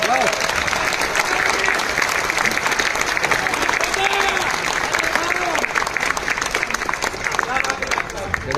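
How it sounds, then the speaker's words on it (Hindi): Sustained applause from a seated audience at an Indore Shanknaad session, dense continuous clapping lasting several seconds with a murmur of voices underneath. "आप लोग उन लोगों के लिए तालियां बजा सकते हैं"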